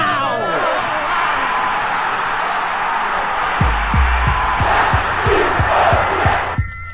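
Futsal supporters in the stands roar and shout continuously as a crowd, with a run of rhythmic thumping beats joining in partway through, loud and dense throughout.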